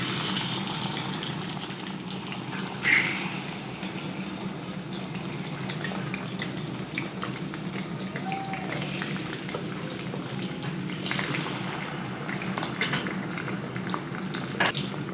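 Raw chicken, 700 grams of it, sizzles and bubbles in hot oil in a karahi, a continuous crackling fry. Faint clinks of utensils come through now and then.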